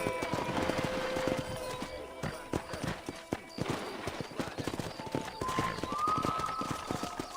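Horse hooves clip-clopping in the video game Red Dead Redemption 2, a steady run of close hoof beats with a horse whinny, while music plays underneath.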